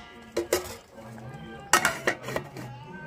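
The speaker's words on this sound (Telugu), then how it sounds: "ఇంక మూత వేసుకోండి." A metal lid set down on a pot of curry simmering on a home stove: a few sharp clinks and clatters close by, with faint talk in the background.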